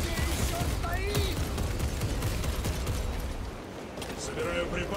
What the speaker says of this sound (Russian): Откуда идет пальба, непонятно.